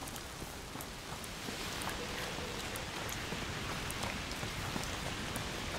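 Rain in the video game A Plague Tale Requiem falls as a steady, moderately quiet patter, with scattered distinct drops striking surfaces over a continuous wash.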